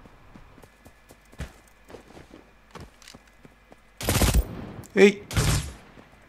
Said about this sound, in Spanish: Me están disparando por todos lados.